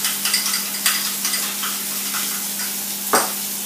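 Garlic mayonnaise is mixed in a bowl with a utensil, making a few quick, close scraping and sloshing strokes over a soft steady background hum.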